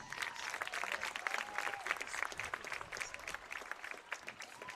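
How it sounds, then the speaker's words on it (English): Sustained applause from an outdoor audience at a New York State Little League 8-to-10-year-old tournament welcome parade, dense steady clapping with a few cheers throughout. "Give a nice round of applause."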